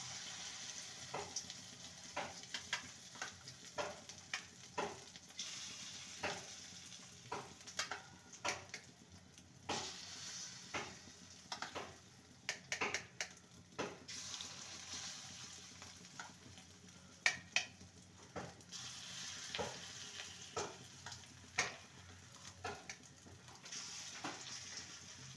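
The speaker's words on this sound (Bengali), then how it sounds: "তেলটা ভালো মতন গরম হয়ে গেছে, এবার অল্প অল্প বড়ার আকারে গড়ে নেব।" Egg and onion fritters crackle and spit in hot oil, a steady sizzle broken by many sharp pops scattered irregularly throughout, close and fairly quiet, with no talking.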